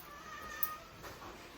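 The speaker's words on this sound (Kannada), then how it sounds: "ನಮ್ಮಲ್ಲಿ ಬೆಕ್ಕಿದೆ ಗೈಸ್" House cat in a village home giving a single faint short meow in a quiet room, with low background hiss.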